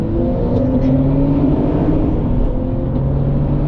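Two cars, a tuned Stage 2 Porsche 991.2 911 Carrera and a stock BMW M3, accelerate together with a steady, loud engine drone and low rumble that holds throughout without a break.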